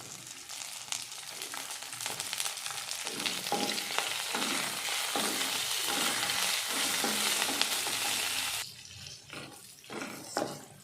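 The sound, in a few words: frying dried red chillies and curry leaves in a pan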